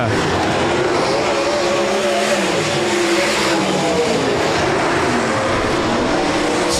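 360 sprint cars race at Rapid Speedway in a video game, a dense, steady engine roar from several cars running close together that fills the whole stretch, with a race commentator talking over it.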